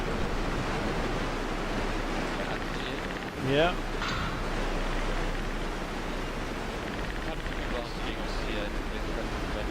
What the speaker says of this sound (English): Ah, the waterfall.